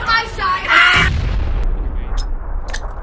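A grenade explosion in PUBG, a sharp heavy blast followed by a long low rumble, with voices just before and a few faint clicks in the decaying aftermath.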